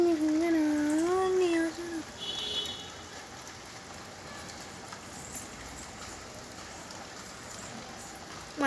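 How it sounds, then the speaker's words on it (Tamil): Steady rain falls outside an open house window, a dense, even hiss that continues unbroken after a voice briefly speaks over it at the start. "வெளியே மழை பெய்யுது"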